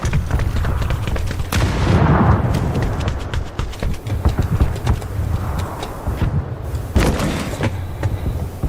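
A chaotic PUBG soundscape of gunfire and heavy booms, with a loud grenade blast standing out partway through amid continuous rumbling noise.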